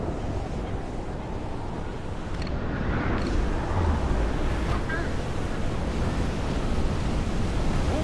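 Stormy sea waves and gusting wind in the Assassin's Creed IV Black Flag video game, a loud continuous roar of surf and wind at sea that swells slightly partway through, with no speech.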